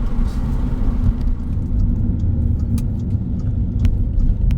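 A 1.8 TFSI turbocharged car engine pulls steadily under light acceleration with the window open, giving a loud, constant low rumble and whir with faint higher ticks and no talking.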